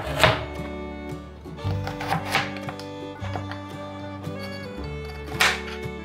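A wave knife cuts a peeled carrot into strips, giving a few spaced, crisp chops against a cutting board over quiet background music.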